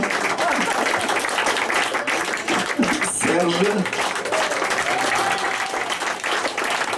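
A theatre-workshop singing-class audience applauds a performer, steady dense clapping throughout with a voice speaking briefly over it.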